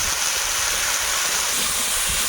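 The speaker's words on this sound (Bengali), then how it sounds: "এখন একটু নেড়ে চেড়ে ভেজে নেব" Green plantain stir-fried with turmeric and salt in a pan for a fish curry, a dense, even hissing sizzle that runs loud and unbroken throughout, close up, no voices.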